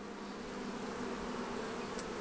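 Italian or Carniolan honey bees buzz steadily at an open hive during an inspection after smoking, a dense, continuous drone close by with no talk.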